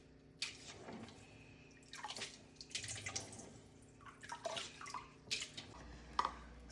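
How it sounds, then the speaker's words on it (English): Rinse water drains from washed rice through a colander, pouring and trickling in uneven bursts with scattered drips, close by and fairly quiet, with no talk. "So when you drain it, make sure you use a colander or strainer"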